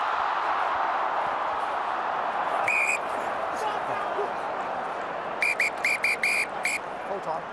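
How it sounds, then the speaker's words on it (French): Referee's whistle ending the Italy versus Ireland Six Nations rugby match, one shrill blast followed by a run of short repeated blasts over the crowd's murmur, with a commentator talking throughout. "L'arbitre pouvait siffler la fin du match."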